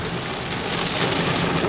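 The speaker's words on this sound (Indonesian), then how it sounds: "Aduh, hujan badai teman-teman, hujannya deras banget." Heavy stormy rain drums steadily on an old Toyota Camry during a road trip, a dense, loud, unbroken hiss of water on the car body that swells slightly toward the end.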